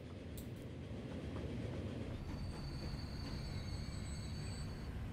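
A train arrives in the Transport Fever railway game, a low steady rumble of rolling wagons with faint wheel squeal and thin screeching tones riding on top, quiet and continuous throughout.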